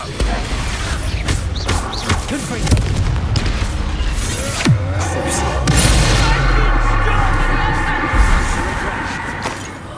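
Expulso explosive spell blasts boom through Hogwarts Legacy combat, heavy crashing impacts over a constant low rumble across ten seconds, with voices mixed in.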